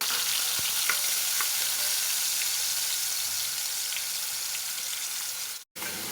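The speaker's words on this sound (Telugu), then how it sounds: "ఇప్పుడు ఈ ఆనియన్ పేస్ట్ని కూడా వేసేసి" Onion paste sizzles and fries steadily in hot oil for a fish curry, a continuous close crackling hiss with faint stirring clinks, cutting off briefly near the end.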